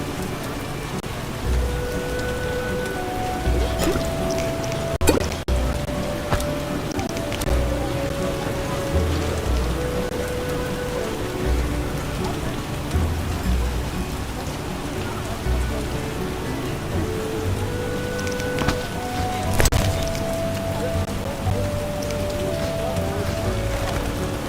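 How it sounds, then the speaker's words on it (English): Steady rain hisses continuously throughout in the video game The Witcher Enhanced Edition, with occasional soft chime-like tones and a few sharper knocks rising above the downpour. "I detest rain."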